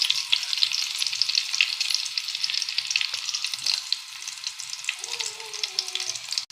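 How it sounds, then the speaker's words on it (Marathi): Garlic and curry leaves fry in hot oil for a dried-fish curry, giving a dense, bright, crackling sizzle that holds steady and close throughout. "तेल व्यवस्थित गरम झालं की त्याच्यात आपण लसूण घालणार आहोत।"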